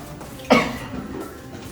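A single sharp cough bursts out close and clear, followed by a brief faint tail over quiet indoor background.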